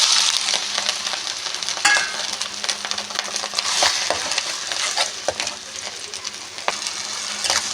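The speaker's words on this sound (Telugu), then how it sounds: "ముందుగా ఆయిల్ వేడి చేసుకుని కరివేపాకు వేసుకుందాం" Curry leaves fry in heated oil in a pan, the start of a Nellore-style fish curry, with a continuous close sizzle and occasional scraping stir strokes and no talking.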